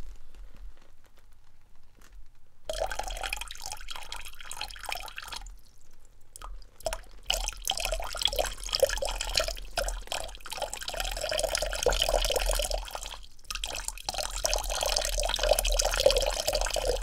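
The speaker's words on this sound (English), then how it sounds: "Place your hands in the water again." Water dripping and sloshing as hands move through it in a sink or basin, a close, steady liquid trickle with brief pauses, quiet and without talk.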